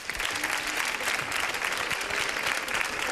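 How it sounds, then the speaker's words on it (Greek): A studio audience claps steadily for about three seconds, dense and even with no voices over it. "Πάμε με ένα χειροκρότημα"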